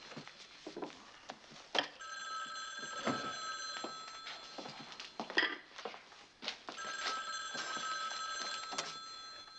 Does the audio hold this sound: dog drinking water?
no